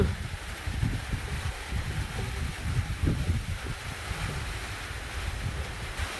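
A strong wind roars steadily through banana leaves ahead of a rainstorm, a loud continuous rushing and buffeting with gusty swells and no break throughout.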